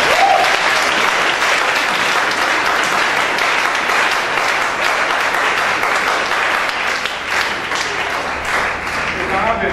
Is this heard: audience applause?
yes